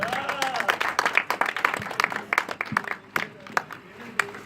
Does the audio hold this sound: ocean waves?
no